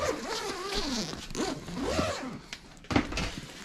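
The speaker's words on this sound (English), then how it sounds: "Where's the zipper?" A suitcase zipper being pulled open in several quick, scratchy strokes, close and loud, with short pauses between pulls.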